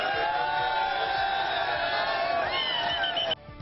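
A huge, excited cricket crowd inside and outside Ahmedabad stadium during an India–Australia Test match roars in a dense, continuous wall of cheering and shouting that holds steady before cutting off near the end.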